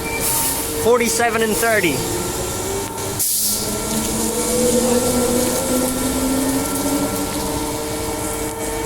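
A Perth-bound passenger train departs Bayswater Station in Perth, Western Australia, as the station closes: a loud, steady rumble of the train, a brief rising whine of traction motors, and a short burst of clatter. A person speaks briefly near the start.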